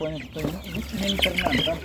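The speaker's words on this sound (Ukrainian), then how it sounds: "Ось така гарна курка" Chicken clucking at an open-air animal market, the hen's calls mixed with background chatter and crowd noise, moderately close and steady throughout.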